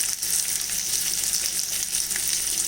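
Sliced onions sauté in hot oil in a pan for a poha upma with vegetables, giving a steady, loud sizzle with no break. The frying is close and heard alone.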